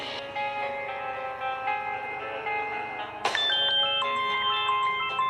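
A mobile phone ringtone plays on its own in a Bengali TV drama scene, a steady repeating electronic melody that turns brighter and louder partway through, with no talking.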